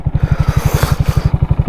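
A 2022 Honda Grom motorcycle riding over snow, its small single-cylinder engine thumping in a fast, even pulse, loud and close, with faint scraping and clatter above it.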